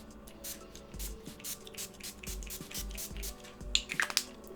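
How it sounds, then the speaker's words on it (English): Tarte Rainforest of the Sea 4-in-1 setting mist is sprayed in a series of short, crisp spritzes about half a second apart, close to the mic, with a few faint handling clicks near the end. "I'm going to take the Tarte Rainforest of the Sea 4-in-1 setting mist"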